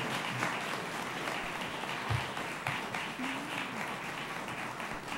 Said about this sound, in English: Let's give all of our candidates a big round of applause.